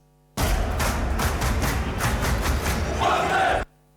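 A large stadium crowd of Anderlecht football fans chants loudly in unison, a rhythmic roar of many voices with repeated pulses, lasting a few seconds before stopping abruptly.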